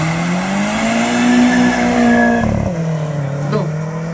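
A rally car races past at a sprint event in Popice, its engine loud and close with a sustained tone that shifts pitch as it passes and fades away.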